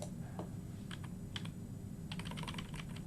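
Keystrokes on a computer keyboard while code is typed, faint and quiet, in short irregular bursts of clicks with a pause in the middle, no talking.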